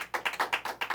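Congregation clapping at a Messianic church service, a quick rhythmic series of about eight distinct claps in steady beat, faint and somewhat distant.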